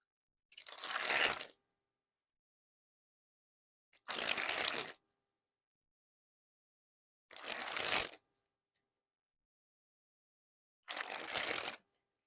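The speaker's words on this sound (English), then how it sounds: "First, we'll test the spring ability." Black Hole playing cards by Riffle Shuffle, a broken-in deck, spring from hand to hand in four separate bursts of rapid fluttering card slaps, each about a second long, close and crisp, with silence between and no talking.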